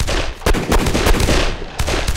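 Loud gunshots ring out in the Arma 3 video game, with sharp blasts at the start and near the end and rapid shooting between them, close and forceful.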